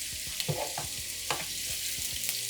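Mushrooms frying in a greasy pan, a steady bright sizzle with scattered soft knocks and scrapes as pieces are flipped over, close and continuous.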